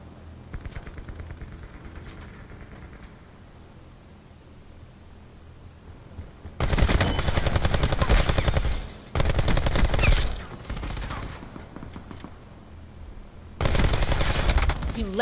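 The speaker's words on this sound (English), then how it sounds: "he's shooting at me" Automatic gunfire in Call of Duty: Black Ops 4 during a Heist match, several loud sustained bursts separated by short pauses, with quieter game ambience and a player talking between them.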